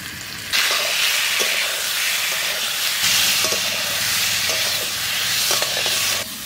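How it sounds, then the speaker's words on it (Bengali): Cumin and dried chilli paste fries steadily in a pan, a continuous close sizzle and hiss with soft intermittent stirring scrapes, no talk over it. "মশলাটা ভাজা ভাজা হয়ে গেছে"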